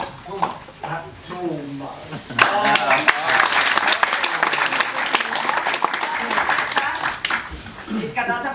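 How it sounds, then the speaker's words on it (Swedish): Audience applause rising to a dense, loud wash of clapping from a crowd, with talk and laughter in the first seconds before it builds and continuing voices mixed in. "en applåd!"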